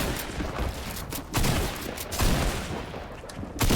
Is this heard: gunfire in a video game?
yes